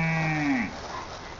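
Farm cows moo before their evening feed, one loud, close, drawn-out call lasting under a second and falling in pitch, then fading into quiet barnyard background.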